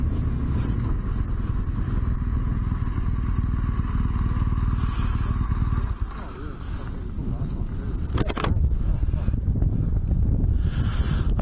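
A motorcycle cruises along steadily on a desert trip, its engine and wind rumble loud and continuous, dipping briefly midway before picking up again.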